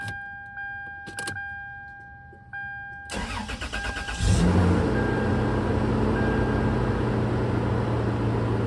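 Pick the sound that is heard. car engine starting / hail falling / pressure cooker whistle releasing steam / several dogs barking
car engine starting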